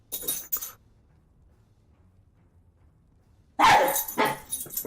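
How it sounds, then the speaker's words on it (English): Dogs barking and playing indoors: a short burst of sharp barks, a few seconds of quiet, then a louder, closer run of yips and barks. "Man, my dogs are like flipping out over here."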